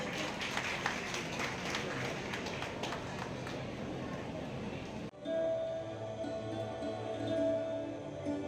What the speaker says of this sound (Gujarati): તાળીઓ ઓછી પડે છે